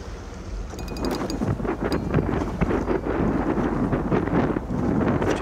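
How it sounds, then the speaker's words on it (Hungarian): Strong wind buffets the microphone beside a reedy lakeshore during carp fishing, a steady loud rumble with gusty swells throughout and faint higher chirps early on. "Most érződik, milyen erős még a szél."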